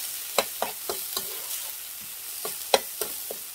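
Dried shredded squid stir-fried in a hot pan, with repeated sharp scraping stir strokes over a constant loud sizzle, close and without speech.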